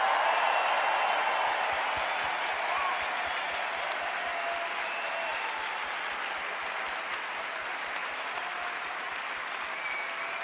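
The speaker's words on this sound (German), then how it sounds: "ihr müsst jetzt mal einen richtig lauten Applaus geben" Loud, sustained audience applause fills a large hall at a Christian conference opening and worship event, a dense steady wash of clapping lasting throughout with little variation.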